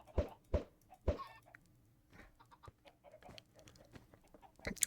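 Game chickens cluck in a hardcore Liminal Industries world, with three loud, close squawks early on, then softer scattered clucks and rustling for the rest.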